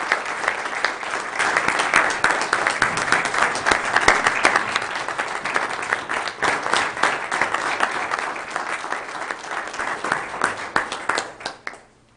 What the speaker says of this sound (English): would you please join us in a round of applause?